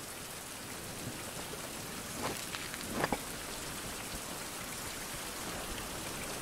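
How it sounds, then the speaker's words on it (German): Steady video game rainfall in the survival game Fountain of Youth hisses evenly throughout, with a couple of brief louder drip-like taps near the middle, no voices. "Und schon wieder regnet es."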